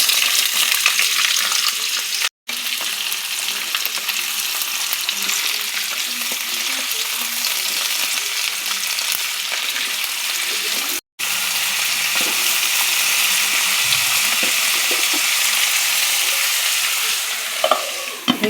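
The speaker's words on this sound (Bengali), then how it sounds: "পাঁপড় ভাজা তেলে শিম আলুটা ভেজে নেব" Broad beans and potatoes sizzle steadily in hot oil left over from frying papad, a loud, continuous hiss filling the kitchen with brief cuts and occasional stirring scrapes near the end.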